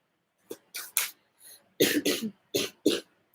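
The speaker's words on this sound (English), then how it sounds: "Yep, again, as I'm coughing." A series of harsh coughs in quick clusters, close and fairly loud, with short gaps between bursts; no speech.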